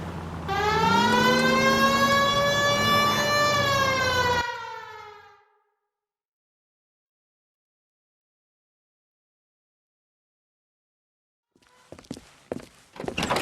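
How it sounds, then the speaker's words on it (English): A loud wailing police car siren in the video game L.A. Noire rises and holds for several seconds, then cuts off into silence before scattered thumps and footsteps near the end. "Hit the siren."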